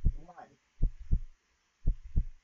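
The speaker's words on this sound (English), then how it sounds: "I'm hearing a heartbeat." Deep heartbeat thumps, two paired double beats in a slow lub-dub rhythm, close and clear, after a short burst of voice at the start.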